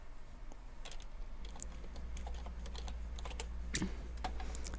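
Keys clatter on a computer keyboard as commands are typed into a Windows command prompt, in quick irregular bursts of close, crisp clicks over a faint steady hum.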